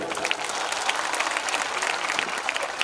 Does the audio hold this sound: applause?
yes